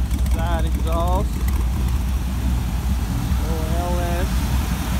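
A 1966 Chevy C10 pickup with an LS 5.3 V8 and side exhaust idles nearby, a steady low rumble that continues under a voice speaking throughout.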